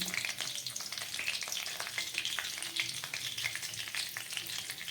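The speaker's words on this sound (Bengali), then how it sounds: "এই তেলের মধ্যে আমি দিয়ে দিচ্ছি পাঁচ ফোড়ন" Panch phoron five-spice seeds hitting hot oil in a pan that has just fried broad beans for Bengali shim paturi, giving a steady, close, crackling sizzle for the whole stretch with no talking.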